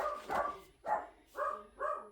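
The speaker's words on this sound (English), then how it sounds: "Told him I'd had enough of his barking for this morning" A dog barks indoors in four sharp, loud bursts spaced about half a second apart, close to the microphone, with a brief pause before the last two.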